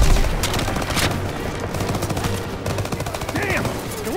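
Rapid machine gun bursts rattle through a Call of Duty WWII battle around a staircase, loud overlapping gunfire with shouted voices and scattered shots mixed in.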